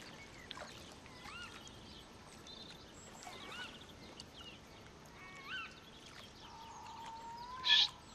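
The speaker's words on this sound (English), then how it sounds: "The lapping of the water and the birds singing," Ambient bird calls and gentle water lapping at a lakeside in the float-fishing video game Euro Fishing, with scattered chirps and whistles over a soft, steady wash and a brighter call near the end.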